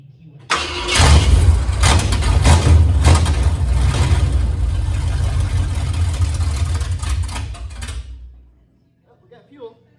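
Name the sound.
truck engine starting and running loudly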